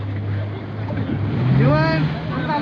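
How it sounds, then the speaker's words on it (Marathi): Sea waves surge and wash around a boat off the Malvan coast, a steady rushing roar with a broad swell in the middle and a low motor hum beneath; no clear talk over it. "लाटा वाढलेल्या आहे"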